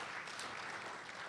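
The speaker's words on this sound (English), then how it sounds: "let's give everyone really a round of applause" Audience at a briefing gives a round of applause, a faint, distant wash of steady clapping that continues evenly throughout.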